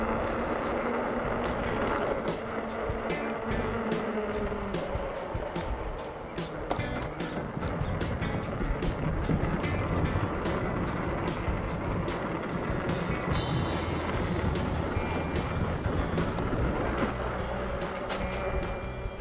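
G-Force T42 electric bike hub motor running while riding, a steady whirring hum under continuous wind and road rumble, with rhythmic clicking throughout and no clear talk.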